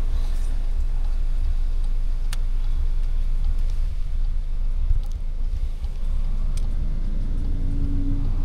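A car drives on a highway at the start of a long-weekend road trip. The engine and road rumble steadily from inside the cabin, with a few faint clicks and no talk.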